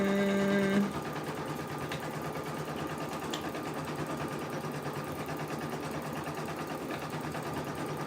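A sewing machine runs steadily for about eight seconds, a continuous close mechanical whir. A brief tone sounds at the start, and the machine is failing to lay down its stitches.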